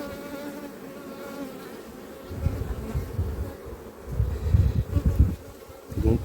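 Honeybees swarm over a dark, coppery-coloured hive frame from a promising colony, their dense buzzing humming steadily and then swelling in louder close passes, with no talking.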